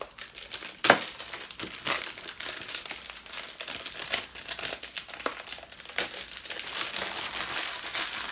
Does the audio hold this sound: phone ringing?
no